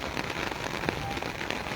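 Torrential monsoon-style rain falls in Taunsa Sharif, a continuous close roar of dense drops hitting surfaces, steady and unbroken, with no speech.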